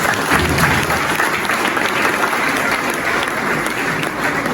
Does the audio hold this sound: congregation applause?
yes